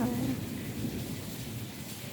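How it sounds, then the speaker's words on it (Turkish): Steady rain falls on garden plants in a soft, continuous hiss with low rumbling underneath, quiet and even throughout. "Yağmur altında ne güzel ya"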